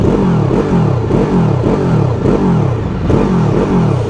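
A QJ SRV 600 motorcycle engine revs hard in repeated bursts, rising and falling in pitch about every half second, loud and close with no talking.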